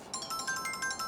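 A phone ringing with an incoming call in a Korean TV drama, a repeated electronic ringtone pulsing rapidly in short, bright bursts, moderately loud and with no talking.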